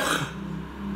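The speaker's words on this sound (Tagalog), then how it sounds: "Grabe yung ubo ko." A single rough, close cough from a man who has a cold after getting soaked in heavy rain, a harsh burst that fades into a low throaty rumble.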